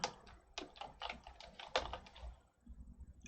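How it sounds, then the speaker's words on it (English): Someone types on a computer keyboard during a live stream, giving a quick flurry of close, crisp key clicks in irregular bursts that stop near the end, with no talking. "I'll type it in"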